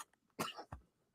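A person coughs once, loud and close, with a harsh burst followed by a second shorter hack, then quiet.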